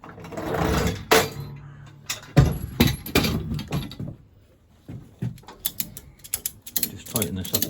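Ratchet tool tightening a bolt on a Yamaha XV535 Virago motorcycle during rear wheel removal, with bursts of rapid clicking and metallic clanks interspersed with pauses, close and fairly loud.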